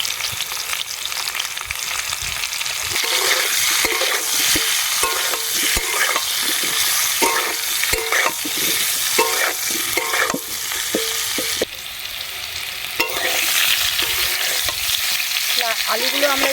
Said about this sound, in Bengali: আলুগুলো আমরা একটু লাল লাল করে ভেজে নেব।